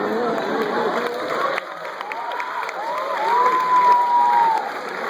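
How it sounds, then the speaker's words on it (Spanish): A conference crowd at FES Aragón applauds and cheers for a visiting footballer, a dense wash of clapping and shouts with whistling and voices rising over it, loud and sustained throughout. "Primero, un aplauso para Ángel Di María"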